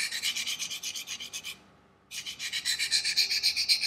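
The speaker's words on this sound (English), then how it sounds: "Remember your fingertips, and the sharpening process begins." Steady rhythmic rasping strokes of a blade being sharpened on a diamond surface, close and fairly loud, with a brief pause midway before the back-and-forth scraping resumes at a steady pace.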